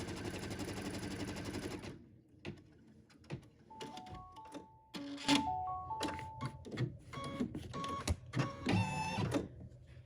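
An embroidery machine stitches fabric held in the hoop, producing bursts of fast mechanical whirring and tapping with beeping tones and pauses between runs after an initial steady hum.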